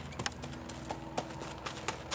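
A horse walks near the shafts of a forecart, its hooves clip-clopping in an irregular rhythm of sharp, close knocks against a faint background hum.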